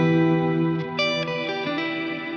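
Electric guitar played normally through a Strymon NightSky reverb pedal with the reverb turned up: sustained chords and picked notes wash into a dense, shimmering tail, with a few fresh attacks layered over the ringing sound, loud and close.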